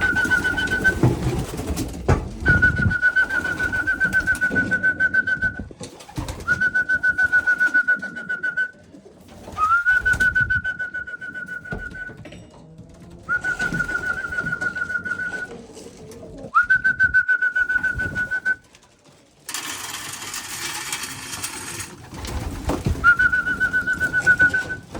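Pigeons coo and whistle in a loft at feeding time, calls coming in repeated steady phrases of a few seconds each with short pauses between, close and clear with no talking.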